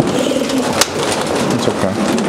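Racing pigeons coo softly inside a loft amid constant dense background noise, with a single sharp click partway through.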